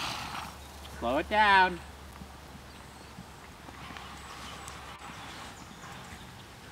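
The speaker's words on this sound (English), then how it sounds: "That's a nice, gorgeous canter" A horse cantering during a riding lesson; the rhythmic hoofbeats stay moderate and steady in the background while a trainer's voice briefly speaks over them.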